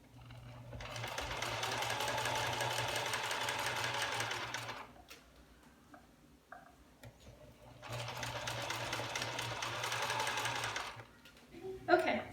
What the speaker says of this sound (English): So now I'm just going to start sewing it.